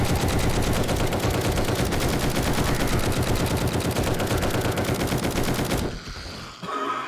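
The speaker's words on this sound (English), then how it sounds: "the full auto mod was definitely the way to go. I was able to mow through them all with one magazine" Full-auto tactical assault rifle with a full auto mod, fired in 7 Days to Die, with a loud, unbroken stream of rapid shots lasting about six seconds that then stops abruptly.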